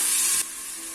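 Steady oil sizzle of finely chopped onions frying, loud and bright for the first half, then dropping to a softer, continuous crackle.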